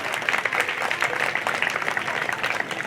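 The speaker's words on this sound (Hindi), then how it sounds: "भजन सिरा के हुए मैंने एक बार जोरदार ताली बजाते हैं।" A crowd at a Ramayana devotional singing performance claps enthusiastically, dense continuous applause filling the whole stretch at a steady, lively level.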